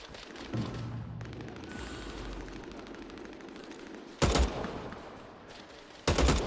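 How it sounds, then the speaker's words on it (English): Two loud, close gunshot bursts ring out a couple of seconds apart in the online vampire battle royale Vampire: The Masquerade – Bloodhunt, standing out against an otherwise quiet, hissing ambience. "Oh, shooting very close."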